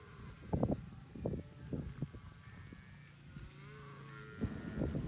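Young calves on a cell-grazing cattle farm during calving season bleat and moo in short repeated calls, several near and others farther off, over a steady outdoor background with no talk.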